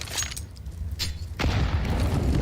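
A grenade blast in Counter-Strike during an ESL Pro League match, a sharp boom near 1.4 s followed by a dense, rumbling low thud that sustains to the end, with brief transient hits beforehand.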